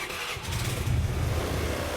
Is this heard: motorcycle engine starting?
yes